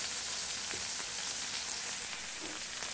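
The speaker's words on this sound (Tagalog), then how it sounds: "igisa muna natin yung ating hipon guys" Shrimp sautéing in a pan in a home kitchen, a steady loud sizzle that holds without pause throughout.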